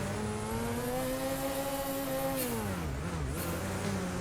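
A snowmobile engine in the Sledders video game revs loud and continuous, its pitch holding steady, dipping briefly and then climbing again.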